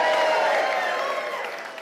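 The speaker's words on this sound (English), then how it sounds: "Can we all just cheer for tonight?" An audience at a 25th-anniversary celebration for the Exploration Place science center in Wichita, Kansas, cheers and applauds. The clapping and cheering are loud and full at first, then ease off slightly over the short burst.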